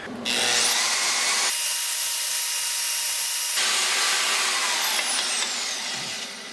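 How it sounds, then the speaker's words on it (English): Milwaukee portable band saw mounted vertically on an off-road stand cuts through metal, a continuous loud high-pitched whine and grinding rasp that shifts in tone midway and tapers off at the end. "it's a Milwaukee porter band saw and then a Swag off-road porter band stand, which is made to mount this saw vertically"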